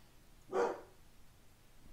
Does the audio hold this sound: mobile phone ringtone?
no